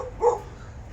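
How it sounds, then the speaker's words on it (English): A dog gives one short, sharp bark at moderate distance, then quiet background follows. "what are you barking about?"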